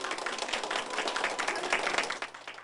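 People at a hospital party with balloons and cake clap for a girl in traditional Guatemalan dress celebrating her recovery, scattered rhythmic hand claps from a modest group, fairly close and lively, with no voices heard.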